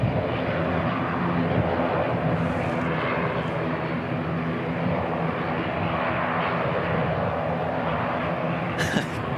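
A Boeing 747-400 freighter departing Christchurch Airport, its engines a loud, steady, grunty roar that holds constant throughout, heavier than small training aircraft.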